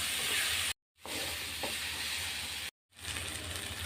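Garlic paste sizzling in a pan with fried onions while being stirred, a steady close frying hiss broken by two brief silent gaps.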